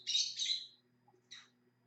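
A pet parrot gives two bright, high chirps: a longer double chirp first, then a short single one after a pause, close and fairly clear over a faint low hum.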